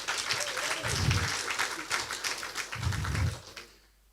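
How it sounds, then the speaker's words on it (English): A crowd at a leadership lecture in Lagos claps steadily in a dense wash of applause, with low thumps beneath, then the clapping dies away at the end. "Play a big round of applause for him."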